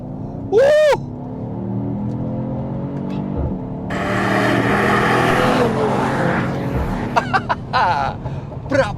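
A 2020 Mercedes-AMG GT 53 4Matic+ four-door coupe revs hard and accelerates, its engine note climbing and then followed by crackling pops, mixed with scattered speech.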